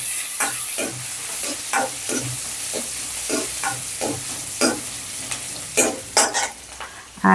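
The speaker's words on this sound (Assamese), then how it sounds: "আৰু পিঁয়াজকণ মই ভাজি ল'ম অকণমান।" Chopped onions fry in hot oil with panch phoron, a steady sizzle broken by repeated scraping stirs of a spoon in the pan, close and fairly loud with no talking.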